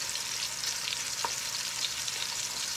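Chicken sears in a hot pan with a steady, close sizzle and a brief clatter partway through.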